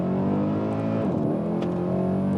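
A modified 2012 Mercedes-AMG C63 engine revs hard up close, its deep harmonic roar rising and falling, with a brief dip before building again.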